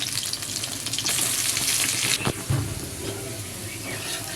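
Dried shrimp fritters frying in hot oil give a steady, close sizzle with bursts of crackling spatter and a brief clatter partway through, continuous throughout.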